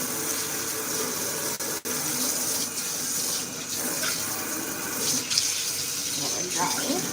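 Water runs steadily from a kitchen sink tap during dishwashing, a continuous moderate gush with small clinks and splashes as dishes are handled, and a voice talks over it at times.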